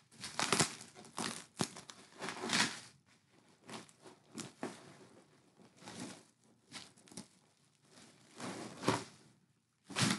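Hands unwrapping a porcelain Santa cookie jar from crinkly packing material, producing irregular bursts of close crumpling and rustling separated by short quiet gaps.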